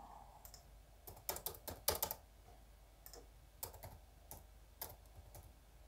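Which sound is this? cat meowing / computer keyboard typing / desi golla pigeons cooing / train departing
computer keyboard typing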